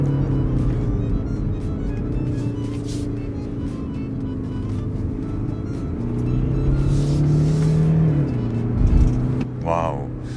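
Interior of a 2019 BMW X4 20d M Sport SUV driving smoothly, with a continuous low engine and road drone that swells slightly, and then a soft thump near the end as it rolls over a speed bump.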